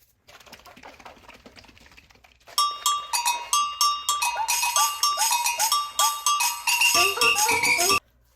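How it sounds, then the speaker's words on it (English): A capped hair color remover applicator bottle is shaken hard, producing rapid rhythmic rattling and sloshing clicks that start after a soft lead-in and continue steadily for several seconds before stopping abruptly. "Replace cap on applicator bottle 2, shake well for 30 seconds"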